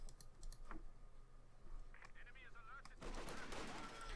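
Light gunfire in the real-time strategy game Company of Heroes 2, with scattered distant shots early on and a denser burst of rattling fire near the end over a low battle rumble.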